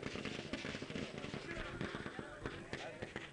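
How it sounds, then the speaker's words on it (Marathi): Firecrackers crackle and burst in celebration at a local cricket tournament semi-final, a dense run of sharp pops and rattles continuing throughout under a commentator's voice. "सन्मान फटाक्यांच्या आतषबाजीने केलं जातोय"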